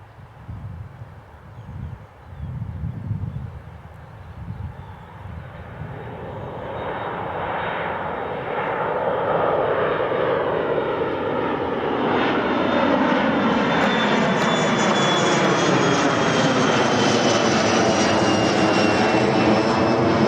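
A Loganair airliner approaching Newcastle International Airport builds from a distant hum into a loud, sweeping engine roar, its pitch sliding as it draws near and stays close and heavy through the end.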